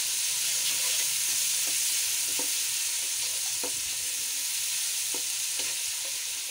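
Spices stirred into potato and eggplant frying in a pan, a steady loud hissing sizzle with scattered spoon taps and scrapes, close and without talking.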